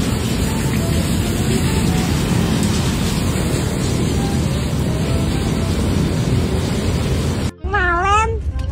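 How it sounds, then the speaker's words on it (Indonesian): Rain pours down in a steady, loud, broadband hiss for several seconds, then briefly cuts out before a cat's rising meow sounds close by. "Panas gini hujan."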